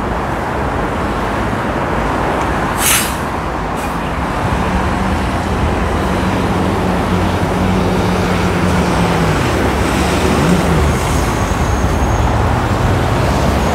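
Steady roadway traffic of cars, buses and trucks streams past, a loud continuous roar with passing engine tones rising and falling and a sharp brief clatter early on.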